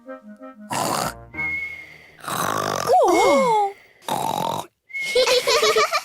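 A cartoon pig character's voice imitates loud snoring with grunting, pig-like snorts in several bursts, with brief pauses between them.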